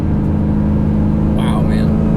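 A 2003 Cobra track car's engine throbs in a close, loud, deep idle rumble with a strong low drone, and a brief higher burst partway through.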